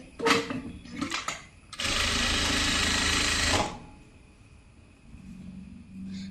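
A sewing machine runs in one steady burst of about two seconds while stitching the neck slit of a kurti. Softer handling noises come before and after it.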